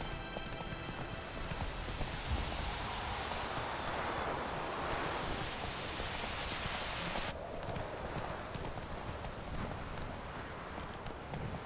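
Roach, the horse in The Witcher 3: Wild Hunt, gallops with continuous rhythmic hoofbeats over wind and rustling ambience, fairly close and steady throughout, with no talking.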